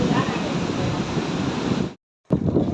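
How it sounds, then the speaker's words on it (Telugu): Sea waves roll in at Kothakoduru beach in Nellore, a broad steady wash of surf mixed with wind buffeting the microphone, cutting briefly to silence before the surf returns. "కానీ అలలు మాత్రం భలే ప్రశాంతంగా ఉంటాయి"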